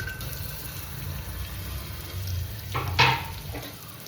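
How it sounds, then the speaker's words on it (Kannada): Onions and spices fry in ghee in a home kitchen pan, a steady close sizzle with some stirring scrapes and a brief louder hiss near the end. "ಈರುಳ್ಳಿ, ಆನಿಯನ್ ಎಲ್ಲ ಕಂಪ್ಲೀಟಾಗಿ ಫ್ರೈ ಆಗಿದೆ."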